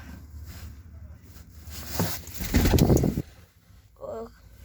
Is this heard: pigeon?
yes